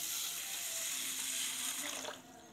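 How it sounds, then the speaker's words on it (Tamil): Water is poured over soaking matta rice and green gram for kanji, a steady close splashing rush that cuts off near the end. "தண்ணி ஊற்றிக்கலாம்."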